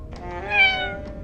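A cat meows once in the video game 1954 Alcatraz, a single clear drawn-out call that rises and falls over about a second, close and alone.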